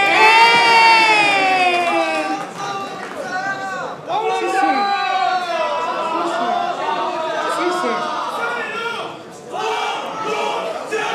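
A theater audience at an SNH48 girl-group stage show cheers with high, excited shouts and overlapping voices. The noise stays loud and steady, then dips briefly before rising again, with speech mixed into the crowd noise.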